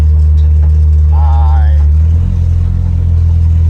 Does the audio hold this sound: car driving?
yes